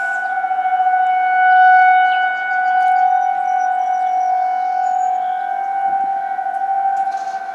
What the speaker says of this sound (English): But around here, it's a tornado siren.